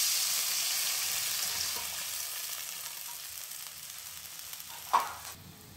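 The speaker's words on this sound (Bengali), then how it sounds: "একটু ভাজা ভাজা হয়ে গেছে, এখন আমি এর মধ্যে দিয়ে দেব গুলে রাখা মশলাটা।" Spice paste sizzles steadily in hot oil over frying rohu fish, a loud continuous hiss that slowly fades, with a brief sharper stir or clatter near the end.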